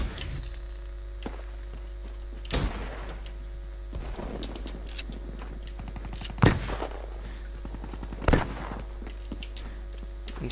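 Gunfire in Black Ops 3 on PS3, a few scattered loud shots and bursts over a constant game hum, with quieter footsteps and background effects between them.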